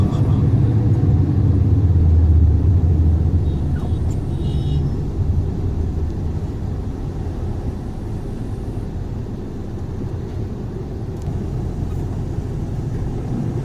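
Car driving through busy Lahore traffic across a canal crossing, a steady loud low engine and road rumble continuing throughout without a break, heavier at the start, with no speech.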